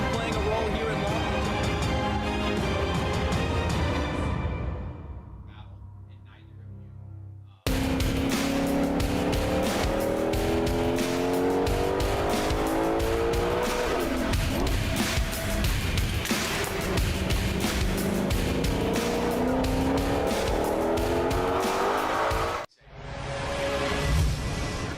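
A Formula Drift pro car drifting in a Top 32 round in St. Louis, engine roaring loud and near with long wailing tire squeal, broken by a brief lull before the engine surges again, with a commentator's voice over it.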